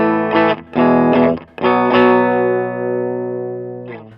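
Clean base tone from a 1970s Dallas Arbiter Lead 100 solid-state amp, set up for pedals: a few strummed electric guitar chords, then a long ringing chord decaying slowly, with a soft final strum, close and alone.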